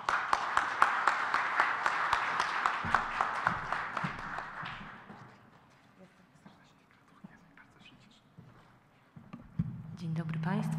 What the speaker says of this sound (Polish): Zapraszamy, prosimy o brawa.